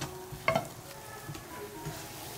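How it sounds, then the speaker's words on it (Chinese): Thick red date paste stirred and turned with a spatula in a wok, giving soft scraping and faint sizzling with one brief clatter near the start, close and moderately quiet with no talk. "这样子还要继续再翻炒一下，炒到它连铲子都不粘就好了"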